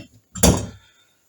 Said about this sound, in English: And then I can let go with the valve compressor